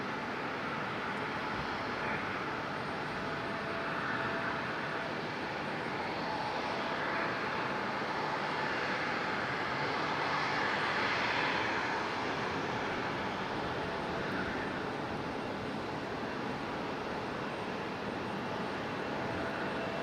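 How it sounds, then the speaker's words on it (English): Engines of an Airbus A220-300 airliner on the ground at Raleigh-Durham International Airport give a steady, moderately distant broadband roar that swells slightly and holds throughout, with no voices. "Looks like the A220-300 is going to wait a minute."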